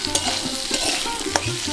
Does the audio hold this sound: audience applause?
no